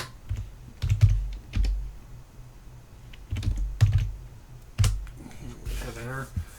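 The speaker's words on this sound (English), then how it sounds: "Again, type in the IP address." Someone types an IP address on a computer keyboard, several bursts of close key clicks with short pauses between them.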